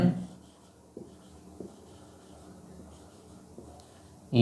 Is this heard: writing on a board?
yes